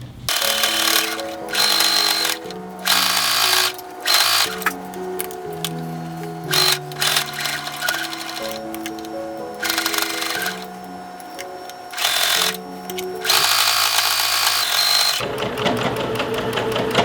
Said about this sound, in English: I'm going to sew it at a 5/8 inch seam allowance.